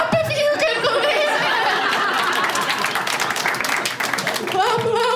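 Stand-up comedy audience clapping and applauding steadily in a club, mixed with chuckles and crowd noise throughout, loud and sustained.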